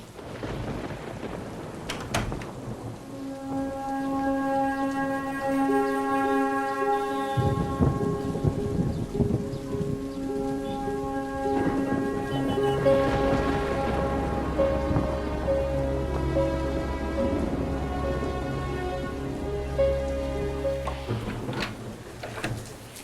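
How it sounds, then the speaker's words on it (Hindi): Steady rain pours throughout with thunder rumbling in, while a soft melodic tune plays over the downpour. "लगता नहीं है कि ये बारिश रुकेगी अभी।"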